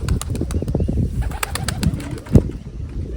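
Pigeons in a welded wire loft setup, one sitting with a chick, give low soft coos and rustle close by, with brief flutters and taps of wings against the cage.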